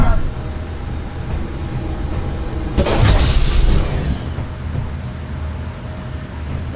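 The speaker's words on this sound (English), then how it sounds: "This is a standard hangar door." A standard hangar door in a space video game slides open with a loud rising mechanical rush that swells at the three-second mark and then cuts off, over a low constant background drone.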